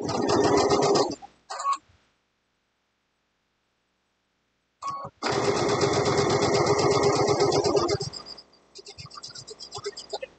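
A sewing machine stitches a seam with a quilting wedge ruler, running in steady loud bursts that stop for a silent pause, then resume in a long run before slowing to scattered softer stitches.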